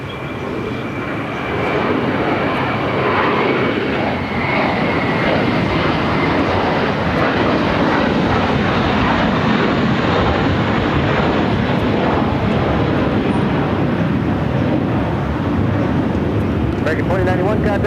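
A departing American airliner bound for Dallas Fort Worth roars loudly and steadily at Los Angeles International Airport, a broad jet rumble sustained for the whole stretch with faint radio chatter from the tower underneath.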